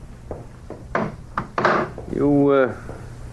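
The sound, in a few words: door and packages dropped inside, radio drama sound effect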